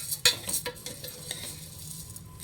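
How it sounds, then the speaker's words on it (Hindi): Lentils being dry-roasted and stirred in a pan for dhaba-style dal fry, giving a soft scraping and light sizzle with a few sharper clinks of a utensil near the start, fading to a quieter rustle. "देखिए इस तरह से भून लीजिए।"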